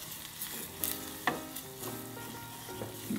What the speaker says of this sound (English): I'm putting the flour in, mixing it up again